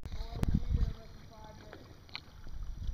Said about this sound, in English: We're paddling to the beach.